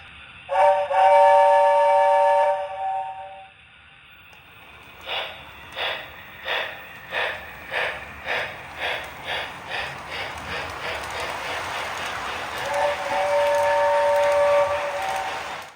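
A model train running under a Christmas tree sounds its whistle, then rhythmic chugging pulses build steadily before the whistle blows again, close and clear.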